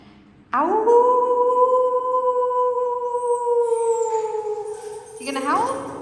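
A voice imitates a wolf inside an echoing old fort shell room, holding one long, loud howl for several seconds before it breaks off, followed by a brief second cry.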